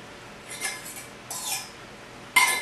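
Beaten eggs mixed by hand in a bowl for cornbread dressing, heard as three short bursts of utensil scraping and clinking against the dish, the last one loudest.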